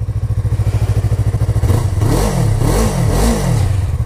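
A 2015 Yamaha R3 two-cylinder motorcycle with an Akrapovic exhaust idles with a steady, loud pulsing beat, then revs up and down in several rising and falling sweeps up close.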